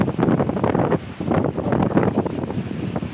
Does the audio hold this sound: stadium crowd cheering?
no